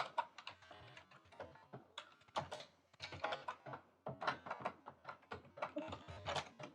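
Rapid typing on a computer keyboard while writing a small C program in the vi editor, a steady clatter of close, crisp keystrokes with brief pauses and no talking.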